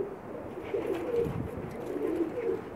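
Fancy pigeons cooing close by in a loft, soft low throaty coos repeating in short rolling phrases over a quiet background.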